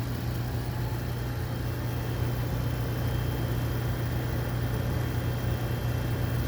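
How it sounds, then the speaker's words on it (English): Blower on a glovebox purifier running, a steady, fairly loud broadband whoosh with a constant low hum underneath, unchanging throughout with no talking. "you can go ahead and turn your blower on"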